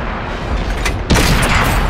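A tank cannon fires in World of Tanks on PS4 while an M3 Lee is in play: a low, steady rumble builds into a sudden loud, broadband boom about halfway through, with the blast sustained to the end.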